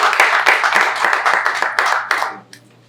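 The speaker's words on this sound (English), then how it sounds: "Another round of applause" An audience breaks into a round of applause, loud and close, with many hands clapping in a brisk continuous burst that tapers off and fades out near the end.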